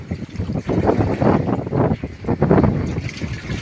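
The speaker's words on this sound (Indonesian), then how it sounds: "karena gelombang, angin sangat kuat." Strong wind blows at sea around a fishing boat, a loud, rough, gusting roar with surging bursts and the wash of rough waves, dominating without voices.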